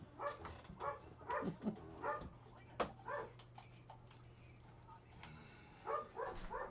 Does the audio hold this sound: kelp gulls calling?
no